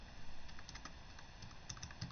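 Faint, quick clicking of keys on a computer keyboard, irregular soft taps at low level under a steady background hiss, with no talk.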